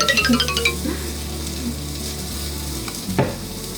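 Potatoes sizzle and fry in an air fryer on its potato or French fry setting. The sizzle is loud and close, with stirring clatter and a bright metallic ding near the end.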